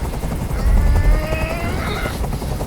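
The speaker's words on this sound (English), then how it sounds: "Tell that helicopter to get out of here." A helicopter hovers overhead in the video game Detroit: Become Human, its rotor thumping as a steady, loud, dense roar with a deep low rumble throughout.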